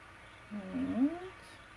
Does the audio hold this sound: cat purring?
yes